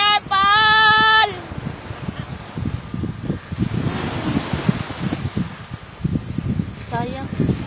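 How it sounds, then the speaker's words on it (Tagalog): Sea waves and wind at the shore, soft irregular washes of surf with gusty wind buffeting the microphone, moderately loud, with a voice heard briefly at the start and again near the end. "Dito kami sa dagat."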